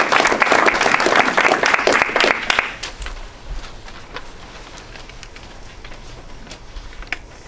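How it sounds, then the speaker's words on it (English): Audience applause at a Hinduism forum presentation, a dense burst of clapping that fills the first two and a half seconds and then fades to scattered claps and room noise. "Let's give her a round of applause."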